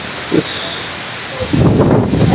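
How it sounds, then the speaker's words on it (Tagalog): Wind gusting and buffeting a nearby microphone, a rough, roaring rush that swells louder toward the end. "lakas talaga ng hangin"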